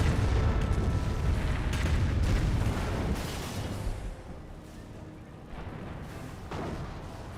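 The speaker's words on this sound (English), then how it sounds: "Calliope Rocket Barrage there." A rapid barrage of rocket explosions from a Calliope launcher in Company of Heroes, with dense, rumbling booms overlapping continuously and fading slightly toward the end.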